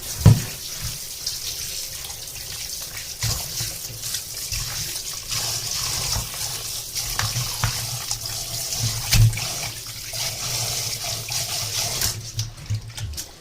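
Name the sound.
washing rabbit pieces under running tap water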